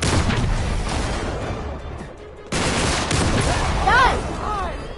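Gunfire in the video game Uncharted: dense bursts of shots and blasts crowd the first two seconds, drop out briefly, then resume with rapid firing and chaotic effects, loud and close.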